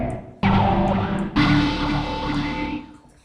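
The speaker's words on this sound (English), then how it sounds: "It's a wobble bass line, so we want to turn the low up a ton." Wobble bass synth line with boosted lows, playing loud sustained distorted notes that restart in two sharp attacks and then slowly fade.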